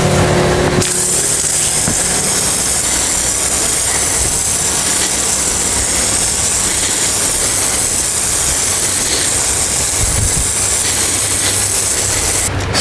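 A GCI Turf Spray Buddy sprayer runs with its wide spray nozzle, giving a loud, steady hiss and motor drone that starts abruptly and holds constant.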